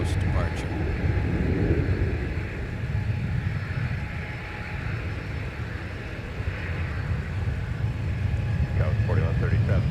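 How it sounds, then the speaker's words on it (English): Airliner departing MSP airport on a long-haul West Coast flight, a broad steady jet rumble holding throughout, with faint voices over it. "Sun Country 407 off to San Diego. Another long-haul West Coast departure."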